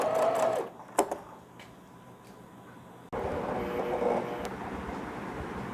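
A sewing machine runs steadily while stitching the head rest onto a baby swaddle, its hum continuous and fairly loud, with a brief louder clatter near the start and a stronger burst after a short pause midway.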